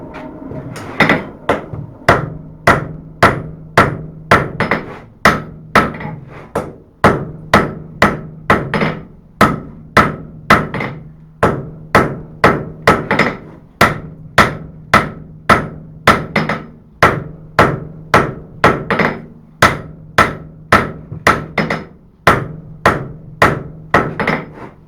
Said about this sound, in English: So I started forging my tip in.